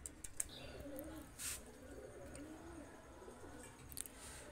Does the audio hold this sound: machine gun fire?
no